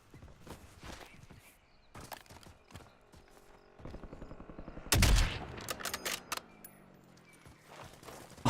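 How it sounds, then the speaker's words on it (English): Sniper shots in a video game, a scatter of sharp cracks spaced apart with a louder cluster of shots in the middle, then smaller sporadic impacts, fairly quiet overall with little talk. "Oh, I'm getting sniped at."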